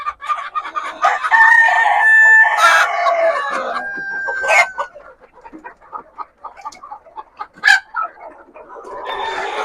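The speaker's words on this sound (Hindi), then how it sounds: "सोनाली ब्रीड देहाती मुर्गी जो है" Sonali breed country chickens cluck busily up close on a poultry farm while a rooster crows loudly a couple of times, the flock's calls overlapping throughout.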